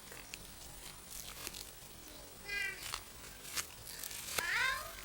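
Kittens meowing outdoors near a pond, several short high mewing calls scattered across the stretch, fairly faint against background noise, with no talking.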